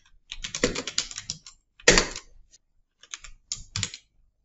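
Typing VBA code on a computer keyboard: bursts of rapid, close key clicks in several clusters separated by short pauses, crisp and distinct with no talking.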